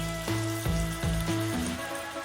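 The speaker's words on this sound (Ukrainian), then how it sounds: "Фарш у нас свино-яловичий 800 грам. Поставили і починає запечатуватися." 800 grams of pork and beef mince for enchiladas sizzling and crackling in a hot pan, a steady close frying hiss with a few soft bumps from stirring.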